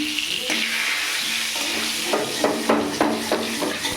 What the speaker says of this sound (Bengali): একটা তেজপাতা ফোড়ন দিলাম।